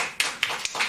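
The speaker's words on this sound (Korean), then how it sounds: "박수로 환영해 주시죠" Scattered handclaps in a short burst welcoming a pastor at a church debate forum, a few sharp claps ringing out from a small group, fairly close with no talking.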